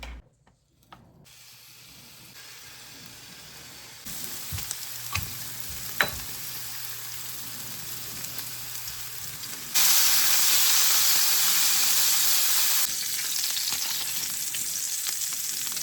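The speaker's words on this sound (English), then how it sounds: "So here's our butter getting browned right here. I've just got it on low heat." Butter browns in a pan over low heat with a soft, close sizzle and hiss that grows noticeably louder partway through, along with a few small clinks.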